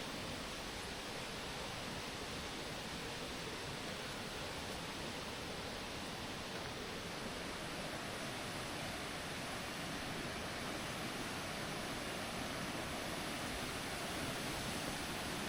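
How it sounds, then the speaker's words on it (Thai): The waterfall at Wat Tham Hew Sin Chai in Ubon Ratchathani, heard from above the cave, gives a dense, unbroken roar of falling water that stays steady and close throughout. "ก็น้ำตก ที่วัดถ้ำหิวสินชัยนะ"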